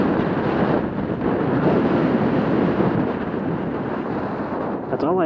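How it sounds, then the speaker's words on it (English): Wind buffets the microphone in a constant loud, low rumbling roar that barely lets up. "I really wish it would just not be windy."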